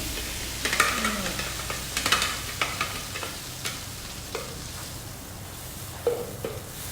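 Blended paste for prawn green curry sizzles in hot oil while being stirred, a steady close frying hiss broken by scraping clicks of the spatula against the pan.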